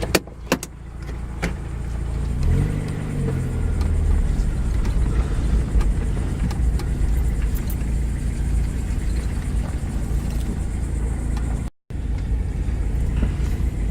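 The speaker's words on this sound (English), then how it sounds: "let's remove the stick and take it for a drive, see if there's any change" A Mazda Miata with its power steering removed, driven around the block, its engine rising briefly then settling into a steady in-cabin drone with road noise and a few clicks, no talk.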